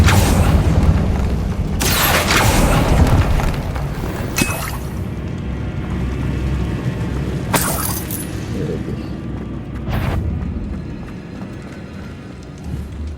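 Confringo fire spells in Hogwarts Legacy go off as several loud booming blasts with crackling bursts, spaced a few seconds apart over a busy game background.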